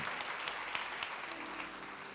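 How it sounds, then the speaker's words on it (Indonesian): A church congregation applauds during a sermon, a continuous wash of many hands clapping, fairly soft and distant, with no voices over it. "Kasih tepuk tangan tuh Tuhan"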